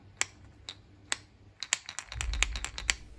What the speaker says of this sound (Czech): poslouchejte, jak v tom jezdí ta kulička